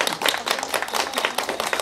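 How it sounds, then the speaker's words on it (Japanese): An audience claps after a golden retriever performs a Shinto dance, with distinct, fairly rhythmic handclaps close by and no talking. "盛大なる拍手でお願いいたします。"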